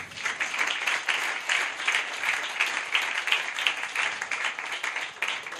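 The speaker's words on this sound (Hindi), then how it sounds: "अब आप ताली बजा सकते हैं।" A church congregation claps together in steady, dense applause that stays loud and even throughout, with scattered voices mixed faintly into the crowd of hands.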